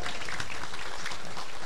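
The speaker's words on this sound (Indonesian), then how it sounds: "Tepuk tangan dulu dong." Audience applause at an Indonesian religious lecture during a Maulid reading, a steady dense patter of many hands clapping throughout the short stretch with no voices on top.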